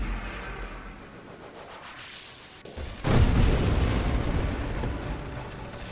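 Deep rumbling explosions in the space shooter game Nova Drift, a sudden loud burst midway swelling into sustained roaring blasts over an electronic background.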